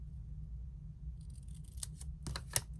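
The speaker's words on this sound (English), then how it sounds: "I'm just going to cut that triangle out" Scissors snipping a paper triangle for a pop-up Christmas card, a few crisp close cuts arriving late after a stretch of low room hum, with no talking.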